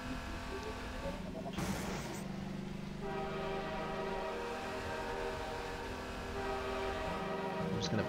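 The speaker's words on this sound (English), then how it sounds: "It's train time!" A train rolls past in the Half-Life 2 video game, a steady rumbling drone with sustained horn-like tones through most of the run and a sharp crash burst near the start.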